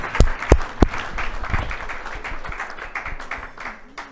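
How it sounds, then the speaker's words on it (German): An audience at a RAILTALKS rail and sharing-economy talk event claps for the event's partners. A few sharp, loud claps come first, then a steady patter of applause that thins out toward the end. "Da müssen wir nochmal einen kleinen Applaus spendieren für die Unterstützung für das Event und alles,"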